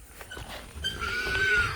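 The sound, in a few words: pigs caught in a hog trap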